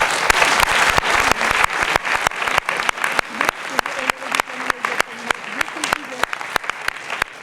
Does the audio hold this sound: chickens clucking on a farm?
no